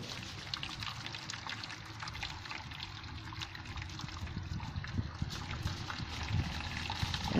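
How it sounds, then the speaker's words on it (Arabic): Freshly boiled water pours steadily from a kettle into several cups set in a tray for making homemade yogurt, a continuous close trickling stream with no talk. "غادي نخوي الماء طايب"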